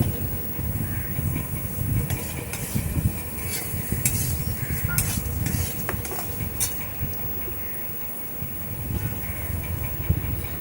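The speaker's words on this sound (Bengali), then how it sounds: "এই সবজিগুলোকে ভালো করে আমি ভাজতে থাকবো যতক্ষণ না সবজিগুলো সেদ্ধ হয়" Vegetables frying in a pan for a sago pulao, a continuous close sizzle with spatula scrapes and clinks scattered throughout.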